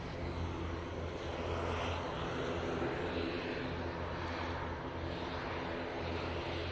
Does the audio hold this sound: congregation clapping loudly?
no